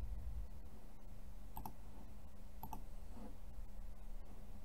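A few soft computer mouse clicks, two pairs of quick taps close together, sit over a steady background hum while software menus are navigated.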